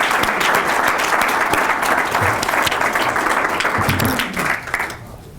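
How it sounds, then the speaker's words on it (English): A room full of people applauding at a community foundation grant ceremony, dense sustained clapping that thins out and fades toward the end. "let's give them another round of applause."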